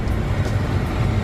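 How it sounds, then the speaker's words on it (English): Airliner auxiliary power unit spooling up at the rear while hydraulic pumps run, a steady broad rumbling drone with low-frequency hum, continuous and fairly loud throughout. "You hear the APU starting in the back, and you can hear the hydraulic pumps running"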